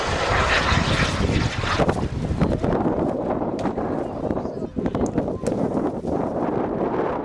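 A large model aeroplane powered by a small turbine jet engine roars loudly as it passes close, then the whine fades and wind buffets the microphone, with a voice talking over it.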